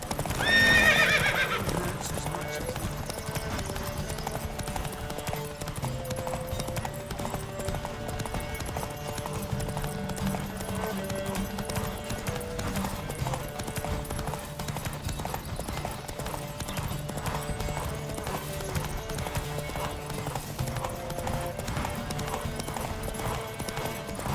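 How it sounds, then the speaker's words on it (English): In The Witcher 3 video game, rhythmic hoofbeats pound continuously as horses gallop in a race, with a whinny near the start and a steady musical backdrop throughout. "Don't spare the horse! Giddy up."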